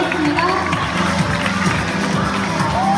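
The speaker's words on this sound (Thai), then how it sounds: "ขอเสียงปรบมือกับทั้งหมดบนเวทีสักครั้งนึงนะครับ" A crowd at an onstage interview event at Central Ladprao shopping mall cheers and shouts loudly and continuously for three seconds, with excited voices rising above the steady roar.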